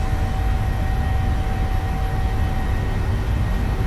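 PMDG 737-700 jet engines held at takeoff thrust in Microsoft Flight Simulator 2020, a steady, loud cockpit roar with a constant tonal whine and no pauses.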